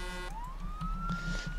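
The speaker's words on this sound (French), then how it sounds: "Sirène sur un Zamac." A police siren on a Zamak truck in the video game Altis Life wails upward in one rising tone and holds, loud and close over a low game background.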